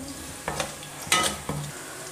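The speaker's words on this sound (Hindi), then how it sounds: "इसको मिक्स कर लेते हैं, अच्छी तरह से भून लेते हैं।" Whole cumin roasting in masala and ghee for karela chana daal, stirred in the pan: a soft, low sizzle broken by a few distinct scraping strokes, quiet and near, with no one talking.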